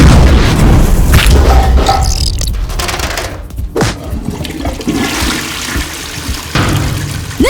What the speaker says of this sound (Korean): 물나리는 소리를 듣는 것보다 더 좋은 건 없지, 안 그래?